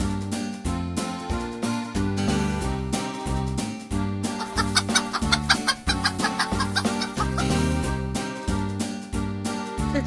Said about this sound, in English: The chicken says cluck